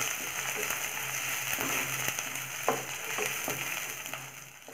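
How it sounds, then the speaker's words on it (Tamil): Small onions sautéing in a pan for chana dal chutney, giving a low, steady sizzle with occasional soft scrapes and taps, close and fairly quiet throughout. "வெங்காயம் போட்டு கொஞ்சம் வதங்கணும்."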